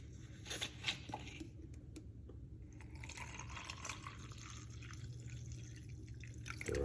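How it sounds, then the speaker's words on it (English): Water poured into a glass holding cayenne pepper, a steady soft trickle and splash running for several seconds, close but fairly quiet, with no one talking. "Straight inside of the glass, and then I will get some water."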